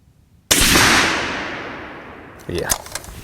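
A single loud, sharp shot from a suppressed 7mm PRC rifle fitted with an old can, with a long decaying tail and a second crack or echo pattern about two seconds later, close to the listener.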